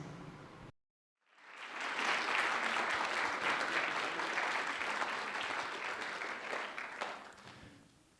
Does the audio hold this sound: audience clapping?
yes